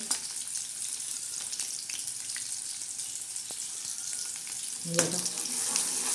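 Chopped onion frying in a pan for a spicy usal: a continuous close crackling sizzle with scattered pops, a sharp clatter near the end, and no talk.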